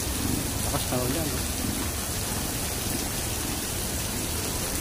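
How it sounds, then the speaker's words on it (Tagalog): Heavy rain pours steadily in a town in Imus and General Trias, Cavite, a dense constant hiss, with a faint voice briefly audible early on. "Lakas na ulan."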